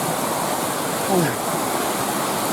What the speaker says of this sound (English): There's a right bit of waterfall going on here.